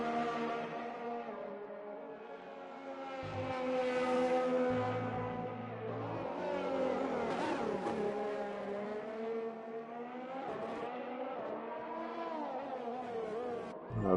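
A Ferrari race car screams through a lap in a sim racing game at the Netherlands circuit, a sustained high-revving engine note rising and falling with gear shifts, loud and continuous from start to finish.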